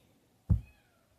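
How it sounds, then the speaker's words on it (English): A single short kitten meow from another room, faint and distant, over a quiet indoor background. "If you hear any noise in the background, I do have a new cat."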